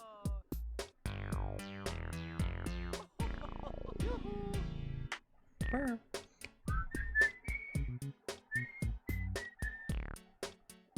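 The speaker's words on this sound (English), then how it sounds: "Got to whistle along to this great song." Someone whistles along to a video game song, bright whistled notes riding over the game music, with bursts of melody and short breaks.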